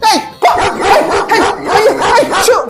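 Dog in a domestic comedy skit giving a series of close, loud barks and whimpery yips in a steady rhythm across the whole stretch, with no talk over it.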